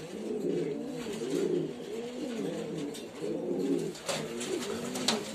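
Pigeons cooing in a pigeon loft, a dense, continuous layer of low, rolling coos from several birds close by. Faint rustling and light knocks sit underneath.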